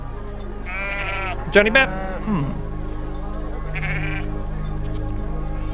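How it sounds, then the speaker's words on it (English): Sheep bleating in a video game, a couple of wavering bleats rising over a steady low game hum, with someone briefly talking in between. "I'm stuck on the sheep."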